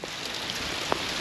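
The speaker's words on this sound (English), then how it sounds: "as well as a bit of rain, we've also got hail" Steady rain mixed with falling hail patters outdoors during a sudden storm, a continuous hiss with one brief sharper hit of a hailstone near the end.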